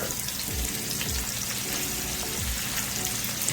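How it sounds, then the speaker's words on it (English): Onion and garlic frying in a pot for steamed cabbage, a continuous close sizzle with a few soft stirring scrapes and no talking. "So we add our onion and our garlic"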